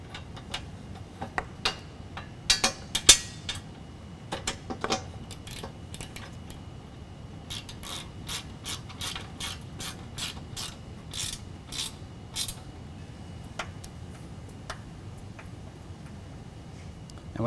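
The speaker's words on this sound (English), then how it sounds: "Tighten everything down" Ratchet clicking while bolts are tightened down during a Bestop Supertop soft top install on a 2015 Jeep Wrangler JKU, scattered clicks at first, then a steady run of quick, crisp ratcheting bursts at close range.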